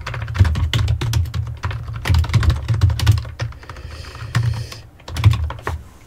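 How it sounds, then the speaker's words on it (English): Rapid keystrokes clatter on a computer keyboard as a location is typed in, a close, steady run of clicks with brief pauses, with no voices. "We'll type in our next location,"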